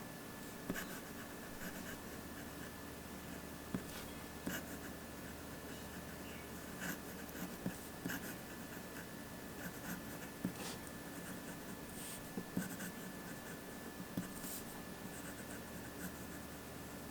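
Leonardo fountain pen with a slightly flexible steel nib writing on paper: faint, soft scratching strokes with small irregular ticks, steady and close, over a quiet hiss and without talk.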